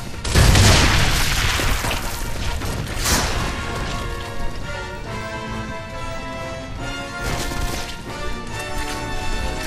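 A loud grenade blast booms in Gears of War amid heavy combat, followed by crashing debris, clattering and rattling gunfire that keep the mix dense and harsh for several seconds, with no talk over it.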